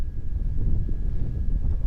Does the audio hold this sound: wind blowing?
yes